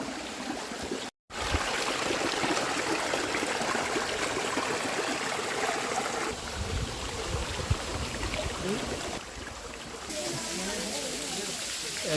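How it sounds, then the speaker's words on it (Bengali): A waterfall spills over rock at Mohamaya Eco Park in Sitakunda, Chattogram, heard up close as a continuous, dense rush of falling water filling the whole scene, with faint voices beneath. "একদম ঝর্ণার উপর থেকে ক্লোজ ভিউ দেখিয়ে দিচ্ছি।"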